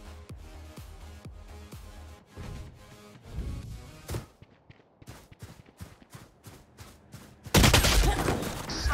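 Bursts of gunfire in a shooter video game, rapid volleys and single shots in uneven rhythm with footsteps between, ending in a loud, harsh blast near the close.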